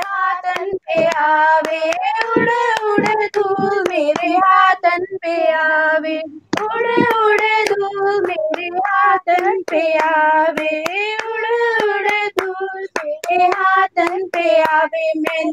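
Hands clap in a steady rhythm to a devotional bhajan at a Bhagwat Katha gathering, sharp percussive claps running under loud continuous singing throughout.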